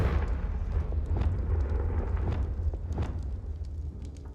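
Confringo spell blasts in Hogwarts Legacy burst in a rapid series of booming explosive hits over a heavy rumbling low end, several sharp impacts following one another closely and loudly.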